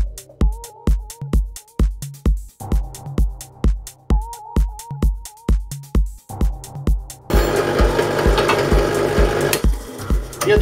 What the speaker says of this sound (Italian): E adesso via col trapano.